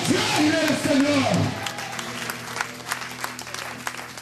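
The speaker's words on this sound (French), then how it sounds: "Applaudissons le Seigneur et le roi des rois." Church congregation applauding at a worship service, a loud burst of crowd clapping with voices and cheers that fades after a second and a half into sparse claps over lingering voices.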